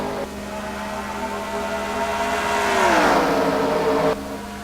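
Race cars in an NRSL stock car racing video game at Homestead-Miami, one engine note sweeping past and dropping in pitch as it passes, a loud steady drone cut off abruptly near the end.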